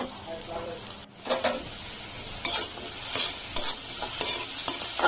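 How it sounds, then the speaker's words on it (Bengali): Turmeric powder being fried and stirred in a pan: a soft steady sizzle with scraping spoon strokes at irregular intervals, with a faint voice in the background. "দিয়ে দেব এখানে কিছু হলুদের গুঁড়ো, দিয়ে কিছুক্ষণ ভাজা ভাজা করে নিয়ে নিব"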